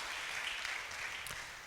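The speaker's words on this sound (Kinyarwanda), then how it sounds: "Imana yacu tuyikomera amashyi menshi." A church congregation at a Sunday service applauds, a faint, distant wash of many hands clapping steadily with one sharper clap near the end.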